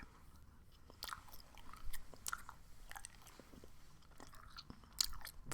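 Trident Bubble Classic bubble gum is chewed close up in a quiet room, with soft irregular wet smacks and clicks of mastication at low volume and no talking.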